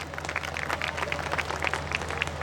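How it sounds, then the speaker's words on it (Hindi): Audience at a Hindi poetry recital by Kavi Pramod Tiwari clapping in a sustained, moderately quiet patter over a low steady hum. "एक बार तालियां बजा दीजिए।"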